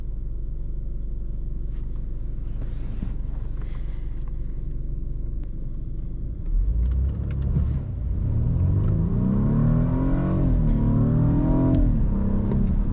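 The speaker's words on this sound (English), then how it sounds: "I wanna try launch control" BMW F30 328i set to Sport Plus with traction control off, idling with a low rumble before the engine surges into hard acceleration under launch control, revs climbing loudly through gear changes from inside the cabin.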